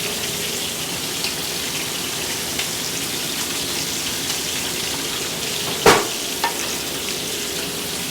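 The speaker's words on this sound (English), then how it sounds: "Let me sear this." Meat sears in a hot pan with a steady, close crackling sizzle throughout, broken by a brief louder clatter near the end.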